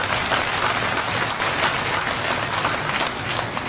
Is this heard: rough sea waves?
no